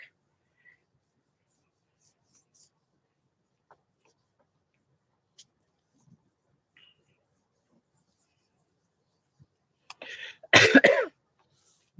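A single short throat-clearing cough breaks a near-silent stretch, close and fairly loud, surrounded by faint small clicks.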